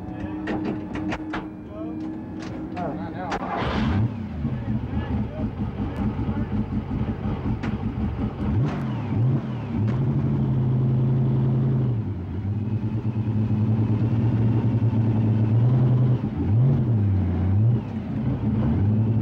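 A Porsche 935 race car engine rumbles and revs up close from inside the car as it pulls out down pit road, pitch rising and falling through gear changes, with talk partly over it.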